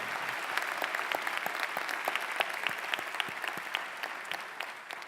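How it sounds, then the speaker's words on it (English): A high school commencement audience claps steadily, a dense and even round of applause that fades slightly toward the end. "Let's give her a round of applause"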